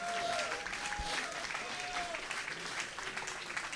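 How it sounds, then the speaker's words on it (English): A crowd at a boxing academy event applauds steadily for a few seconds, a continuous moderate clapping wash with faint voices. "Everybody give him a round of applause"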